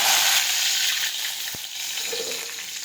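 Curry leaves drop into hot oil for urad dal, setting off a loud burst of sizzling that settles into a steadier hiss, with one brief knock partway through.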